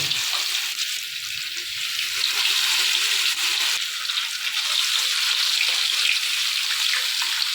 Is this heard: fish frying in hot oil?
yes